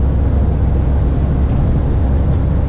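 Continuous low drone of a lorry driving along a motorway at night, engine and tyre rumble steady and unbroken throughout.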